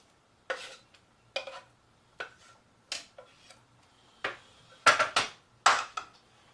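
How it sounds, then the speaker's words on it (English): Diced onions tipped into a pot for vegetable ramen soup and stirred, a series of separate scraping and clattering strokes of a utensil against the pot, close and fairly loud, with quiet gaps between them. "Now my onions diced. Get it on in there."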